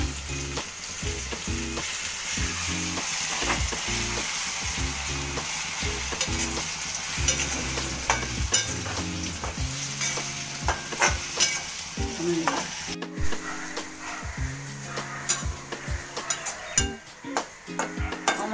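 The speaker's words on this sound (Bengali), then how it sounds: "গরম হয়ে যাওয়ার পরে আমি এগুলি তেলের মধ্যে দিয়ে দিচ্ছি" Brahmi greens fry in hot oil, with a loud continuous sizzle and crackle. Frequent spatula scrapes and clinks against the pan come through, and the sizzle thins toward the end.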